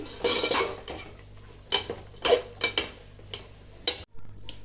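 A metal spoon stirring chicken curry scrapes and knocks against a pan in several sharp clanks, with a faint sizzle underneath.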